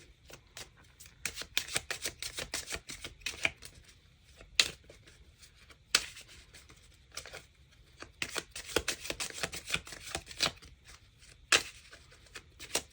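Tarot cards riffle and flutter in repeated bursts of shuffling with brief pauses and snaps as cards are drawn, close and crisp with no talking.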